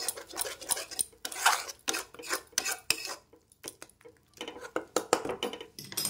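A spoon scrapes and clanks against a kadai as spice masala is stirred while the pan is held steady with tongs, a series of irregular metallic knocks and scrapes, close and fairly quiet.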